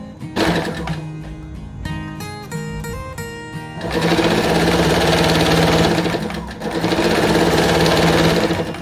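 Sewing machine running steadily while stitching two rows of long, loose gathering stitches for a dress, a loud continuous whirring hum that pauses briefly at the start, then runs in long sustained bursts; music plays underneath.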